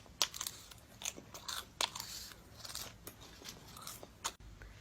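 Someone chewing fried cicada nymphs, close crisp crunches and bites in an irregular rhythm, fairly quiet, with no speech.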